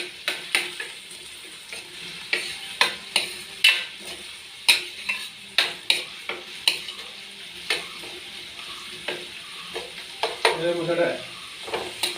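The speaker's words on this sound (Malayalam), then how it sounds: "ഇത് നന്നായിട്ട് വഴറ്റി കൊടുക്കുക" Onions, green chillies and garlic sauté for a Karunagappally-style tuna fish curry, with a steady sizzle broken by repeated sharp scrapes and knocks of a spoon stirring in the pan, close and fairly loud.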